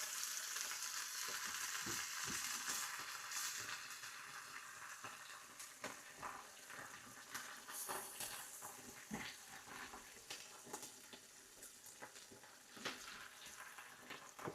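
Onions fry in a pan with a steady, close sizzle, broken by irregular clicks and scrapes as they are stirred, with no talking.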